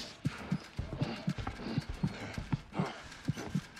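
Horse hooves clip-clop steadily in The Outlast Trials, a quick regular beat of sharp close knocks over a low game ambience.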